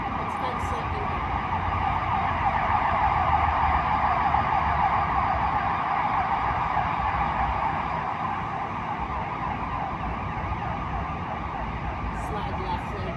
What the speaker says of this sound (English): So the video is complete with real Chicago noise. Lots of sirens all the time.